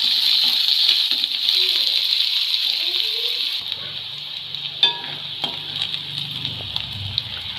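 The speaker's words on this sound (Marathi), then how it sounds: "आणि कांदा आपण हे परतवून घेऊया दोन मिनिट" Onion and green chilli sauté in a hot pan with a steady sizzle, while a spoon stirs and scrapes against the metal. A few sharp clinks sound near the end.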